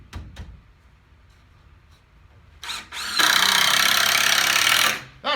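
Screws are driven into wooden wall studs while framing a wall: a couple of brief power-driver bursts, then a loud, sustained whirring drive of about two seconds, all close up.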